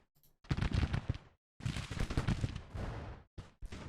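Massed musket volleys in the Civil War strategy game Grand Tactician, crackling in dense rattling bursts separated by short silences, loud and close with no voices.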